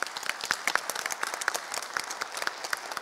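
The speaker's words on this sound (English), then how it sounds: "A big round of applause for Dr." Audience applause at an APNIC annual general meeting, a crisp, steady burst of many hands clapping, fairly close and uninterrupted by talk.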